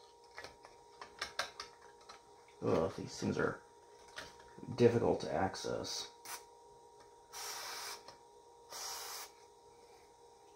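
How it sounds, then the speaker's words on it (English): Aerosol cleaner sprayed into the switches of a Philips amplifier under repair, heard as two short, close hissing bursts after someone speaks over faint clicks and handling noises. "Okay, I'm just going to spray it."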